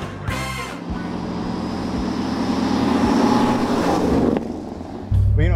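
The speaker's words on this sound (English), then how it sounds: "it sounds like a bigger engine than a 351, actually." A big V8 engine in a 1973 Ford Gran Torino runs with a loud, steady roar that builds and holds, then drops abruptly near the end.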